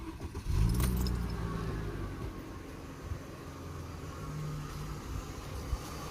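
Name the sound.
Mercedes C-Class W204 car engine starting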